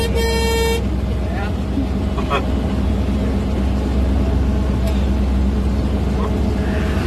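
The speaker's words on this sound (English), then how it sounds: "You like my horn?" Horn of an amphibious duck boat on a tour, one loud harmonic honk at the start, followed by a steady engine drone and people talking.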